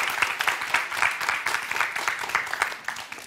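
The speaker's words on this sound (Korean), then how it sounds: "뜨거운 박수." Warm applause from an audience at a talk as a volunteer comes up on stage, a dense steady patter of many hands clapping fairly close, continuous for a few seconds without speech.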